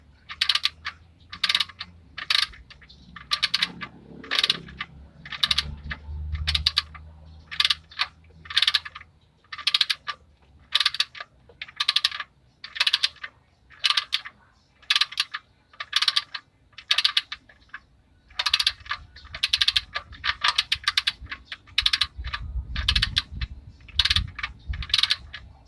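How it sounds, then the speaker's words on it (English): Evenly spaced ratchet clicks from tightening the oil drain plug on a Hyundai Eon, a close, steady series of crisp ticks over faint low rumbling. "So I'm gonna show you now how to uh, tighten up the"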